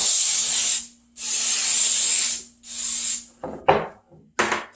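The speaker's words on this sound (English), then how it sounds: "you get out your loaf pan and you spray it up." Cooking spray hisses from a can into a loaf pan in several close, loud bursts: two long sprays, a shorter third, then a few quick spurts with brief gaps between them.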